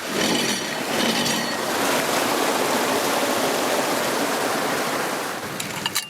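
Water rushing steadily down stone irrigation channels on a mountain slope in a village, a loud, unbroken broadband flow with no voices heard over it.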